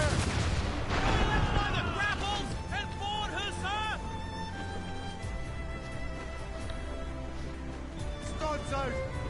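Ship cannons boom repeatedly in a naval battle in Assassin's Creed Rogue, heavy shots rolling out over the water while crew members shout over the barrage.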